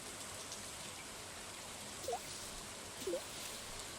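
Steady rainfall in the farming video game Stardew Valley Expanded, a soft continuous hiss of drops that fills the clip at low level, with two brief chirping tones rising over it.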